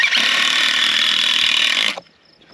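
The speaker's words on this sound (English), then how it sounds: "And then we'll screw this one." A power driver sinks a screw into a wooden pier, a loud, steady mechanical whir for about two seconds that cuts off sharply, leaving a faint hum.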